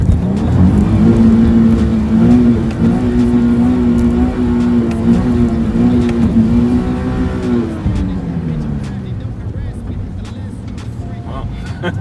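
A Nissan 370Z engine revs hard and steadily for several seconds as the car spins donuts in a tropical storm, loud and close, then the revs drop and fade toward idle, with talk picked up around it.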